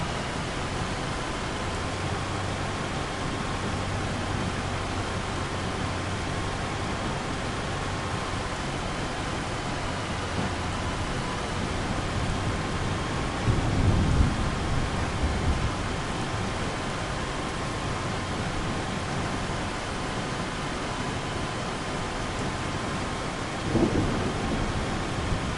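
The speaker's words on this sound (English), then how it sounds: "No let up with this thunder." Steady hiss of heavy rain from a Farming Simulator 25 thunderstorm over Scottish farmland, with a deep rolling thunder rumble near the middle and another toward the end.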